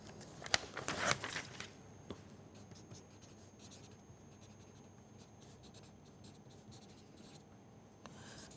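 Pen scratching notes on paper during a physics lecture, a burst of quick close strokes at the start followed by quieter intermittent scribbles and taps over a faint background hum.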